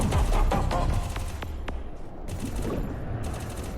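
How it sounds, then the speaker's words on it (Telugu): Rapid bursts of gunfire in the battle royale game Free Fire, with a string of sharp shots cracking close and loud in the first couple of seconds and then continuing more sparsely. "లాంగ్ రోడ్ నుంచి ఎవడో కొడుతున్నాడు"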